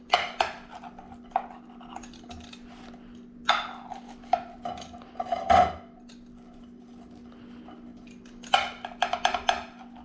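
Knife or cutter cutting into a crispy pineapple pizza, producing sparse clicking and crunching taps against a plate or board with a steady low hum underneath, irregular and close, with quiet pauses between strokes.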